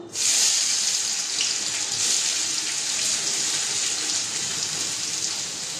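Onions are dropped one by one into hot oil, and a loud, steady hissing sizzle starts abruptly and holds close by for several seconds without talking.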